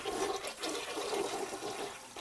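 A toilet fitted with a HydroRight water-saving conversion kit flushes, a rushing, gurgling surge of water that runs steadily for a couple of seconds.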